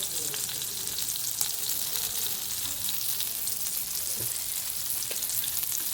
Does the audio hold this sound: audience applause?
no